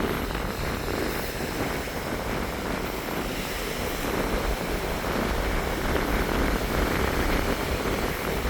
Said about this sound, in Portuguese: Olha o vento, hein?